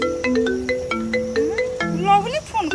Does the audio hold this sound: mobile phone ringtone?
yes